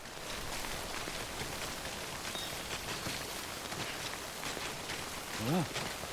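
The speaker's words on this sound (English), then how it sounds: "So far so rainy." Steady rain hisses across the whole stretch in the video game Death Stranding, a dense even patter of drops with a brief rising tone near the end.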